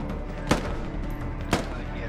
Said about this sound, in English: I'm just suppressing fire